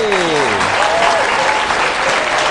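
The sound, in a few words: audience applause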